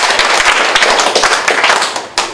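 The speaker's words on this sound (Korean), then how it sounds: "박수 주세요." A live audience at a motivational lecture breaks into clapping, dense overlapping hand claps close and loud throughout, with a brief dip and a sharp final burst near the end.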